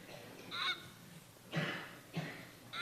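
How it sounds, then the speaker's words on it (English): Migrating geese honking, three separate calls spaced about a second apart, moderately loud and clear over a quiet background. "when you hear the sound of migrating geese"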